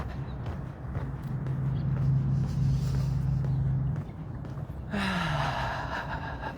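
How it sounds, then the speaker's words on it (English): Soft breathy exhales with a low hummed vocalization during a breathing meditation, sustained and close, then fading before a sharper sighing breath near the end. "Making that little vocalization on the exhale."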